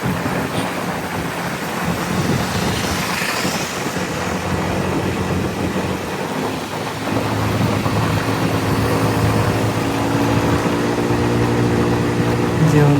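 A motorcycle runs at high speed on a highway alongside other riders, heard as heavy wind buffeting and road rumble, with the engine's harmonic drone growing more distinct and slightly louder in the final seconds.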